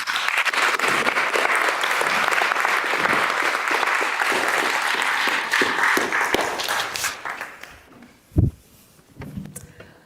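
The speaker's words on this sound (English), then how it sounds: "I think they all deserve another round of applause." An audience applauds after a panel discussion on UK democracy in Oxford, a dense, loud wash of clapping that carries for about seven seconds before fading out, followed by a single sharp knock.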